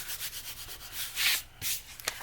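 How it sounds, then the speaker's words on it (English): Rubbing away excess material along the top edge of a handmade soft-cover journal, a run of close, soft scratchy strokes in uneven bursts with one louder sweep partway through, and no talking. "any overage up here I'm going to rub off"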